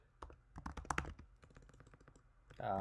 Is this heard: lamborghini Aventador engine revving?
no